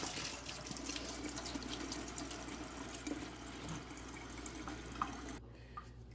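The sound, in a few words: water running out of upturned lettuce container in sink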